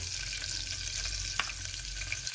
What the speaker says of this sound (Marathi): तेल तापलेलं आहे आता आपण जिरे टाकूया हे सगळे खडा मसाले खडा मसाले टाकूया